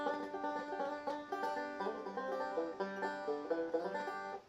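Banjo rolls from the first break of a bluegrass tune; quick, continuous picked notes, close but fairly quiet, with no talking.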